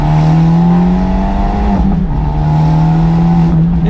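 Remapped Abarth 124 Spider pulling hard through the gears with a sport catalytic converter, a loud, close engine drone whose pitch climbs steadily, dips at a gear change around two seconds, then climbs again, with no talking.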